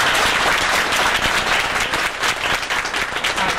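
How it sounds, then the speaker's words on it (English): Graduation ceremony audience applauding, a dense, steady wash of many hands clapping at close range throughout, loud and sustained with no talk over it. "Let's give them another round of applause."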